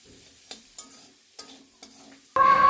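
Chopped capsicum goes into a pan of spices, with a few soft stirring clacks and scrapes before a sudden loud burst of sizzling that continues to the end.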